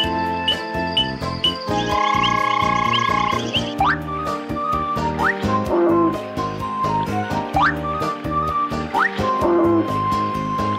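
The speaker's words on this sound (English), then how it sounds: "the frogs are here to sing their froggy song" A dense chorus of croaking frogs at a pond, with rhythmic pulses and chirps layered together alongside bright whistle-like tones.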